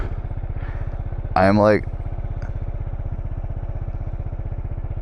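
A small motorcycle rolls at a crawl with the clutch pulled in during a rider training course, its engine idling in a steady close putter while a voice briefly speaks.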